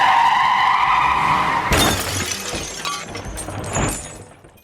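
A motorbike crashes into a running man as a dramatized story effect: a sustained engine whine cuts into a loud smash with scraping and skidding debris. Another crunching impact follows before the sound fades.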